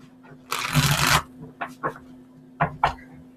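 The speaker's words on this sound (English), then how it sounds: "One more shuffle, please." Tarot cards are riffled in one long brisk shuffle, then tapped and handled in a few short, sharp bursts, close and crisp against a quiet room with a faint steady hum.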